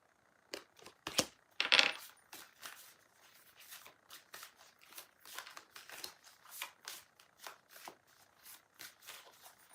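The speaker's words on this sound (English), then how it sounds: "Let me now pull another card." Tarot cards are shuffled and handled up close in a quiet room, with a few sharp riffles early on followed by a steady rhythm of soft papery slides and taps.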